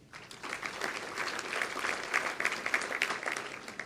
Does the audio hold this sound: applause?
yes